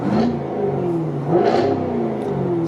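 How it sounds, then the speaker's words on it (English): A 2020 Jaguar F-Type R engine revs up twice with a throaty, rising exhaust note, close by and fairly loud, with a steady idle rumble between the surges. "So right now it's lit up, so the exhaust is gonna be a little bit louder"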